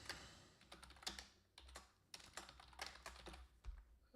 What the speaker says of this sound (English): I'm almost done typing up a million things, it feels like